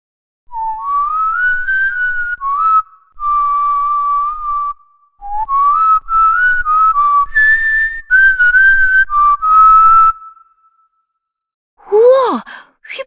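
A character in the video game Elsword whistles a clear, loud melody in several phrases of gliding sustained notes, separated by short pauses, and ends with a brief rising sigh-like sound.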